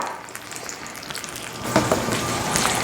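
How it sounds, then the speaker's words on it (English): Close, continuous sizzling of peppers caramelizing in a hot pan with light crackles and pops, growing a bit louder partway through. "You can hear that sizzling."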